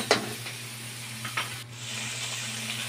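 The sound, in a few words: pechay (bok choy) sautéing in a pan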